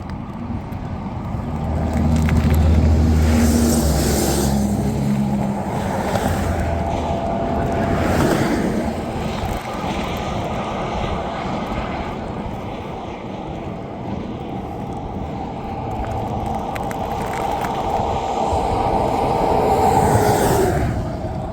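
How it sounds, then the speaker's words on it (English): Road traffic passes at night while someone rides a bicycle, with vehicles swelling and fading nearby under heavy wind rush across the microphone. "A lot of traffic out tonight."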